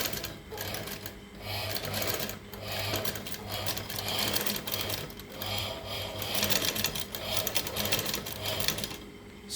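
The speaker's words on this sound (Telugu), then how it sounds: "స్టోన్స్ వచ్చినప్పుడు కొంచెం తేల్చి జరుపుతూ కుడుతున్నాను" A sewing machine stitches fabric decorated with stones, its rapid mechanical chatter running steadily and close up, with brief pauses as the presser foot is lifted to pass over the stones.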